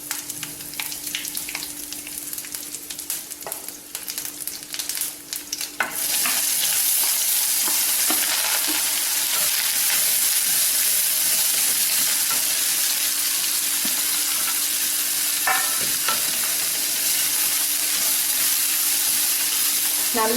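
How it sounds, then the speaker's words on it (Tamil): Orange peel sizzles in sesame oil with mustard seeds, cumin and asafoetida, first with busy stirring scrapes and crackle, then a loud, continuous, even hiss of frying for the rest of the clip. "நல்லா இந்த ஆரஞ்சு தோலுடைய கலர் வந்து மாறுற வரைக்கும் நல்லா வதக்கணும்"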